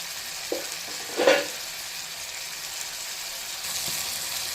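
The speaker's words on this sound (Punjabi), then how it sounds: "ਹੁਣ ਇਹਨੂੰ ਆਪਾਂ 2 ਤੋਂ 3 ਮਿੰਟ ਹੋਰ ਪਕਾ ਲੈਣਾ ਹੈ ਕਿ ਸਾਡੇ ਪਿਆਜ਼ ਤੇ ਟਮਾਟਰ ਵੀ ਬਿਲਕੁਲ ਇਹ ਸੌਫਟ ਹੋ ਜਾਣਗੇ" Onions and tomatoes fry gently in a pan on a gas stove, a steady soft sizzle with a brief louder stirring scrape near the start, heard close and without talk.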